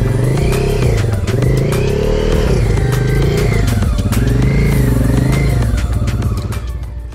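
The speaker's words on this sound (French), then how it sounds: "Bah il est là, avec sa KTM. Il vient de passer" A KTM motorcycle on an off-road trail during a hard enduro event passes close by, its engine loud and rising and falling in pitch with revs, continuous throughout and fading slightly at the end.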